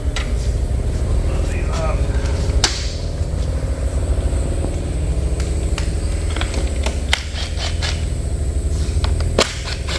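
Kawasaki KLX300 SM motorcycle fitted with an aftermarket exhaust and fuel controller runs a dyno pass, giving a loud, steady engine drone for the whole stretch with a few sharp clicks on top.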